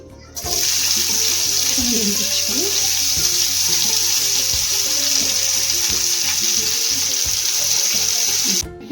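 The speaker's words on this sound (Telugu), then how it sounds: "ఈలోపు మనం బ్రౌన్ ఆనియన్స్ ప్రిపేర్ చేసుకుందాం." Steady, loud sizzling of onions browning in hot oil, a continuous crackling hiss with occasional stirring clatter, close up and without voices.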